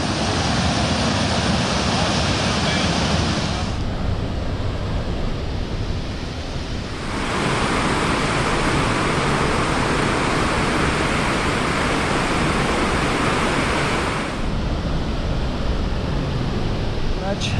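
Loud, constant roar of Victoria Falls going over the edge, heard from the Zimbabwe side, fills the whole stretch, a dense rumbling wash that swells and dips slightly but never stops.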